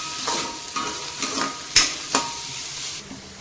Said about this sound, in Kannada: ಇದೆಲ್ಲ ಸ್ವಲ್ಪ ಫ್ರೈ ಆಗಬೇಕು ಎಣ್ಣೆ ತುಪ್ಪದಲ್ಲಿ ಚೆನ್ನಾಗಿ